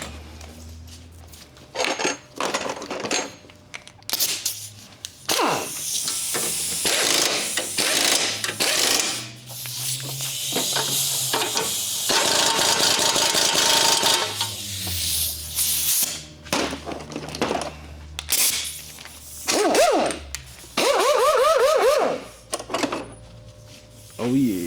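Repeated rattling bursts of an impact wrench tightening a new axle nut and bolts on a 2006–2011 Honda Civic, loud and close in uneven runs with pauses and clinks of tools, and people talking in between.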